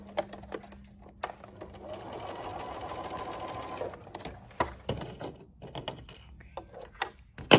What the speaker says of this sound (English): my sewing machine. And I'm just gonna sew the edge